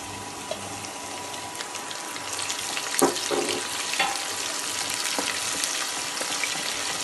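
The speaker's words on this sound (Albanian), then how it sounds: "Nuk duhet të na skuqet shumë qepa, vetëm të verdhet." Onion and garlic frying in a pan, a steady close sizzle with a few brief stirring clinks and scrapes, no talking.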